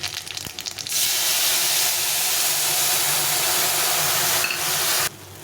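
Black mustard seeds and garlic sizzling in hot oil in a pan: a loud, steady hiss that starts abruptly and holds for about four seconds before cutting off.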